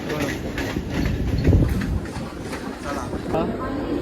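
A train near Chinchpokli, Mumbai, rumbles along steadily in heavy rain with a low, continuous clatter, a voice talking over the running noise throughout.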